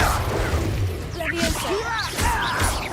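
Confringo fire spell cast in Hogwarts Legacy, a loud whooshing blast with crackling swirls and sweeping tones over steady game ambience and music, close and dense for the whole stretch.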